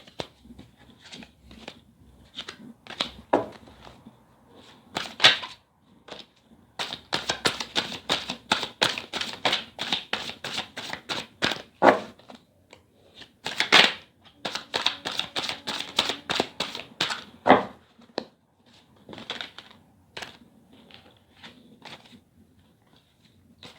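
A deck of tarot cards being shuffled and handled in irregular bursts of quick, crisp flicks and taps, with pauses between, close up and without talk.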